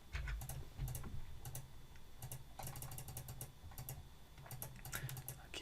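Computer mouse clicks while setting paragraph indentation in Microsoft Word, heard as quick, soft, close clicks in scattered bursts over a faint background, with no talking.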